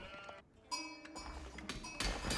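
Sheep bleating in Age of Empires 4, several short distinct bleats at moderate volume over quiet game ambience, with no talking.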